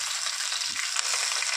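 Amaranth greens hit onion already frying in a pan, giving a loud, steady hiss of sizzling oil that stays close and constant with no voices.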